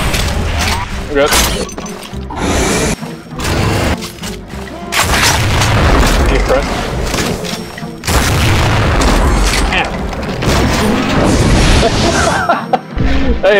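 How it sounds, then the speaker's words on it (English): A flak cannon fires in a video game, with loud, heavy booming blasts and crashing impacts repeating through a dense, chaotic barrage at close range. "Finishing off a Fritz, one flak cannon shot at a time."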